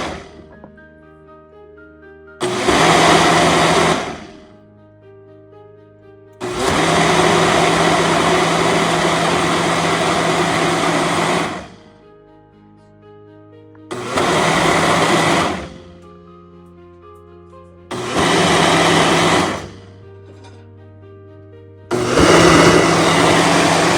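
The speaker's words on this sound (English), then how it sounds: "So now it goes onto the little Ninja smoothie maker." A Ninja smoothie blender whirs loudly in several pulses of varying length, blending a banana and peanut butter smoothie, each burst starting and stopping abruptly with quiet gaps between.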